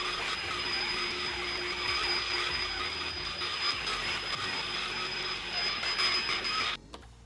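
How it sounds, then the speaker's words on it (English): A vacuum cleaner works slowly across a mattress with a steady, close whine and a high-pitched tone, then cuts off abruptly near the end. "vacuum slowly in a north-south and then east-west fashion to allow everything that's in the mattress to go into the vacuum cleaner"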